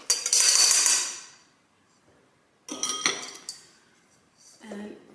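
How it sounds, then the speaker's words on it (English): Utensils clatter and scrape against a bowl while melted chocolate is mixed into egg whites for chocolate mousse: a loud burst of clinking, a pause, then a second bout of scraping and knocks, with a brief voice near the end. "now we mix the chocolate with our egg whites"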